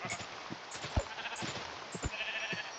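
Sheep in the video game Minecraft bleat in a few short, repeated calls, moderately close and fairly quiet, with no talking.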